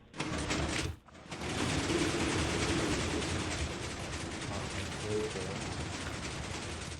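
Virtual slot machine in a metaverse video game spinning after its button is pressed, a dense, continuous rattling clatter that starts abruptly, breaks off briefly near the start, then runs on steadily and loudly.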